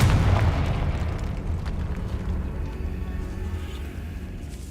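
A Confringo fire spell bursts in the catacombs of Hogwarts Legacy: one loud, deep explosive boom at the start that rumbles and slowly fades over the following seconds.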